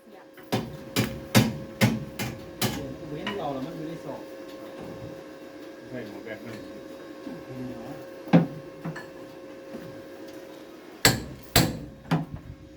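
Sharp hammer strikes ring out while a collar is made to keep rice from wrapping on a DC93G harvester. Loud blows come in quick clusters at the start and end, with a few isolated hits between, over background talk and a faint hum.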